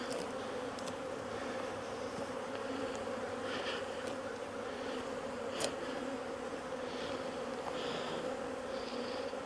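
Honey bees buzz steadily around an opened ten-frame hive during an inspection, a continuous dense drone from many insects close by with occasional louder passes near the listener.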